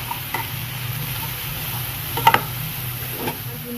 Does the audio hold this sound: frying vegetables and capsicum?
yes